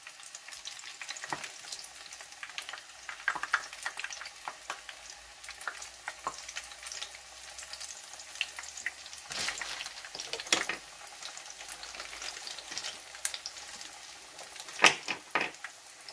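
Yam puffs fry in oil flavoured with onion, giving a quiet, steady crackle with scattered sharper pops and occasional stirring, with no voices.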